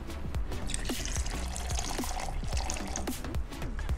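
Pomegranate juice poured into a whisky cocktail, a steady liquid stream with dripping and splashing close up, continuous for several seconds with no talking.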